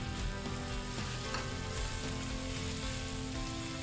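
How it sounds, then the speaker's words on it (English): Spare ribs and green beans hitting a hot pan over medium heat, a loud, dense, steady sizzle and crackle of frying heard close up without talk. "just dump the entire contents of that bowl into the pan"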